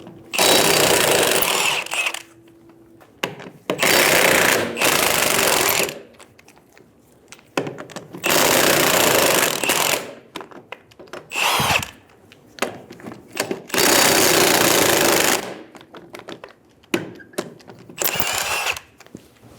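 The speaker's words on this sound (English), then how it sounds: "Using a 19mm socket, remove the 4 lug nuts." A power tool with a 19mm socket loosens lug nuts on the rear wheel of a 2000-2007 Ford Focus, sounding as several loud, close buzzing bursts of a few seconds each with quiet gaps between.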